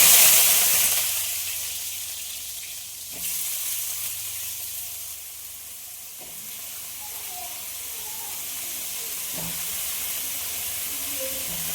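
Breadfruit pieces fry in hot coconut oil with mustard seeds. The result is a steady, fairly loud sizzle and hiss with a few soft stirring knocks and brief pops along the way.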